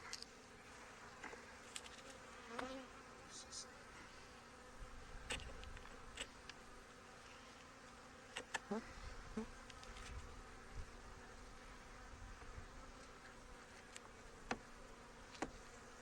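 Honey bees buzz around an open hive while frames of food are added, giving a faint, continuous drone with occasional close passes and small clicks of hive equipment being handled.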